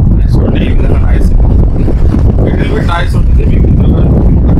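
Crompton Optimus 65-litre air cooler, four years old, running with a loud steady fan whoosh and hum close to the microphone, continuous under a person speaking.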